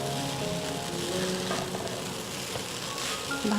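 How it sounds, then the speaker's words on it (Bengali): Chicken fried rice sizzles steadily in a frying pan while being gently stirred, a soft close frying hiss with no talk. "রাইসটা আমি এখন মিশিয়ে নেব। আলতো করে মেশাতে হবে।"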